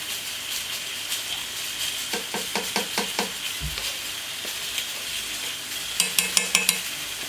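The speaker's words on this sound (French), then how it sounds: "On va ajouter le fond de veau pour faire le jus et la sauge" Veal stock and sage simmering into a jus in a pan, with a steady sizzle under a quick series of metallic clinks and scraping stirs from a utensil against the pan.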